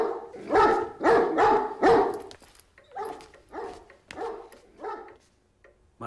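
Several dogs bark nervously indoors, a quick run of three loud barks followed by a string of softer, uneven barks and yips, close to the listener with no talking.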